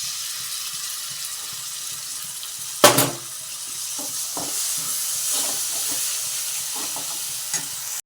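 Chillies and tomatoes dropped into a hot pan for tomato chutney, a sudden loud sizzling splash followed by steady frying hiss and occasional stirring scrapes, close up with no voices.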